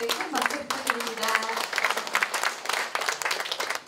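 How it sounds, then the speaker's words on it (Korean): Audience applause at an academy opening ceremony for a CEO economics program, a burst of many hands clapping fairly close and lively for a few seconds, with a voice briefly audible at the start. "큰 박수 부탁드립니다"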